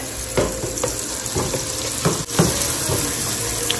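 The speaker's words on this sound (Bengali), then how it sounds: "আমারও এখানে মশলাপাতি দিয়ে টমেটো পেঁয়াজ দিয়ে কষানো মোটামুটি হয়ে গেছে" Spices, tomato and onion sauté in a pan with a steady close sizzle, broken by several bursts of stirring scrapes, and no voices.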